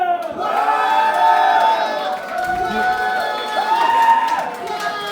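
Men in a dance-party crowd shout and cheer together in a loud, sustained roar with rising and falling voices, a few individual yells standing out near the end.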